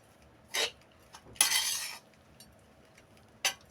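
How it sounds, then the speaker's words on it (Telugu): Broad bean (chikkudukaya) rice being mixed slowly in a pot, heard as three separate bursts of spoon scraping against the pot, the middle one longest. Close and fairly quiet, with no talking. "బాగా నిదానంగా కలపాలండి ఈ అన్నాన్ని"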